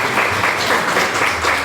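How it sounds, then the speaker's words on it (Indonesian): A crowd at an Indonesian anniversary livestream event claps together, a short burst of steady, fairly close applause with no talking over it. "Tepuk tangan dulu."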